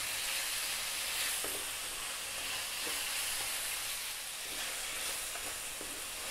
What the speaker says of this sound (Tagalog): So gigisahin ko lang siya ng mga 2 minutes